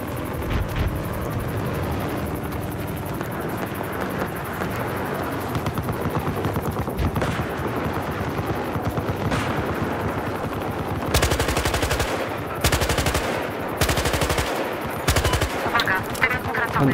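An MDC weapon fires in Battlefield Hardline, several loud bursts of rapid shots near the end over a steady rumbling background that sounds like a helicopter or aircraft.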